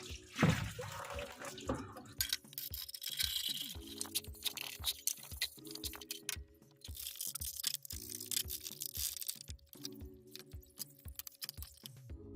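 Water runs and splashes over the soap-scummed inner and outer drums of a disassembled washing machine during cleaning, with scrubbing and a steady rhythmic mechanical thumping pattern repeating underneath, close and moderately loud, no talk.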